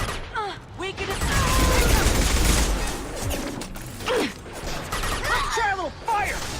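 Gunfire in the video game Mass Effect 2, bursts of mechanical weapon fire and clanking running steadily through a firefight, mixed with shouted combat voices and game dialogue.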